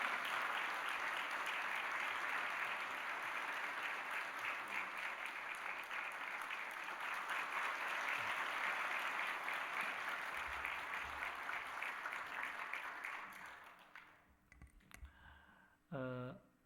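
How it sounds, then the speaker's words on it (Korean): A church congregation at a Sunday worship service applauds in celebration, a dense, sustained roomful of clapping that fades after about fourteen seconds, followed by brief clicks and a short voice. "큰 박수로 축하해 주시기 바랍니다."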